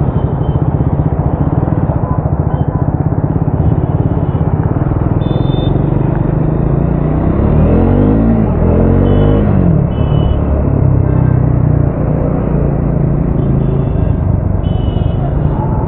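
A Triumph motorcycle rides through road traffic at night, its engine a loud, close, continuous drone with surrounding vehicle rumble and a brief rise and fall in pitch midway.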